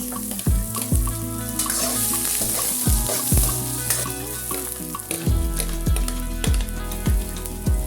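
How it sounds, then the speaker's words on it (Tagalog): Onions sauté in oil in a pan for crab cooked in coconut milk, with a loud, continuous sizzle broken by repeated rhythmic scraping strokes of a spoon stirring close up. "Ilagay ang mantika, maggisa ng sibuyas"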